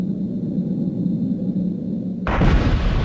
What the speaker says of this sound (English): the standard practice for exposing a new rock face is to blast it